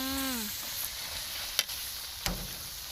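Banana dessert being stirred in a frying pan, a steady close sizzle of frying with a couple of sharp utensil knocks against the pan.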